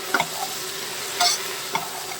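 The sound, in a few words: stirring and frying onion, lemon and salt mixture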